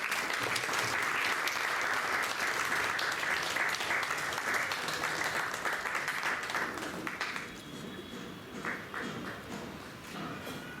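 Dense audience applause at a Marathi lecture-series welcome fills the hall loudly for about seven seconds, then thins into scattered, fading claps.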